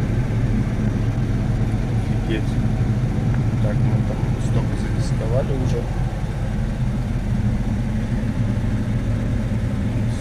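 A Claas Axion tractor engine drones steadily at the edge of a steep hillside field, a constant low rumble heard from the cab while a person speaks over it.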